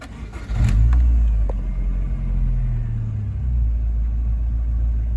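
A Rover 45 car engine, with its engine management light on, cranks briefly and catches, settling into a loud, close, steady low idle rumble.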